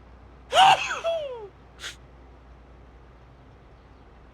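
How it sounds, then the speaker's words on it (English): A single sharp human sneeze with a quick intake and burst, followed by a short faint breathy noise, near and loud over an otherwise quiet background. "I sneezed there for a second."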